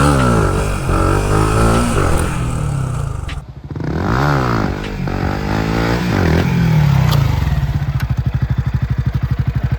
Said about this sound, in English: It's so nice to wheelie with 4-strokes because you can be like smooth with throttle.